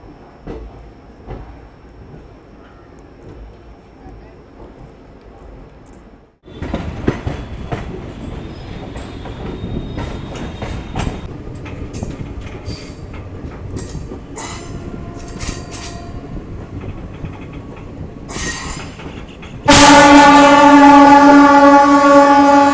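The Saryu Yamuna Express runs on rails. A quiet rumble at first gives way to louder rolling clatter with wheel squeals, and near the end a loud, steady tonal roar takes over with a high whine. No one speaks.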